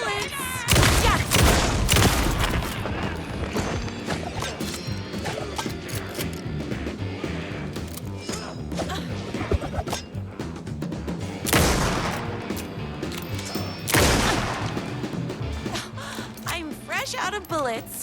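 Gunfire in the horror game Alan Wake 2, from Night Springs: several loud shots and bursts punch through a busy bed of music and effects, with a voice speaking between them.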